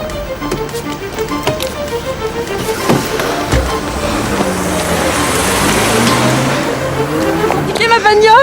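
A stolen car speeds off with squealing tires in a tense street scene, engine revving and rubber screeching loudly close by, with shouting voices and commotion at the start.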